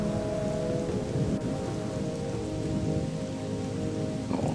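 Steady, dense rainfall in a video game, loud and continuous throughout, with soft tonal background music under the patter.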